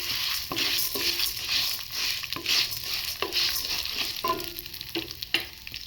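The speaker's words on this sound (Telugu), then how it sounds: "మినప్పప్పు, కొద్దిగా శనగపప్పు, వీటిని బాగా వేసుకుందాం" Urad dal and a little chana dal sizzling in hot oil in a pan, with a steady crackling fry and repeated scraping stirs of a spatula throughout, close and fairly loud.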